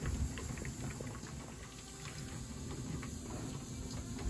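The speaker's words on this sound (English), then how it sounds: "I've got water coming to a boil here." Water coming to a boil in a pot on a home kitchen stove gives a faint, continuous bubbling and simmering hiss.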